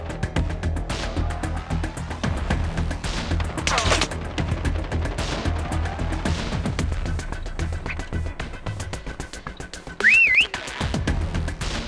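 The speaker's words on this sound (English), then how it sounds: "Next whistle in 10 seconds." In the Call of Duty Mobile prop hunt mode, a short rising whistle chirps out near the end, amid dense, rapid crackling gunfire and clattering game effects that run throughout.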